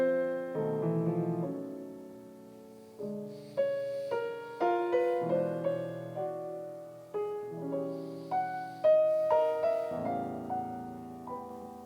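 Orchestral excerpt of the transformed gold theme from the opera La fanciulla del West: sustained melodic phrases built from clear swelling notes, heard alone at a moderate, even level.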